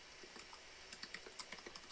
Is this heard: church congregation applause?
no